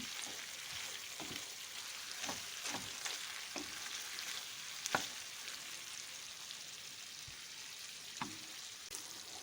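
Chicken and vegetables sauté together in a pan, a continuous soft sizzle broken by scattered clicks and scrapes of stirring, fairly quiet and steady throughout.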